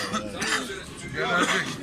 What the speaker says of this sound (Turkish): Abi adam memleketin adını duydu öksürmeye başladı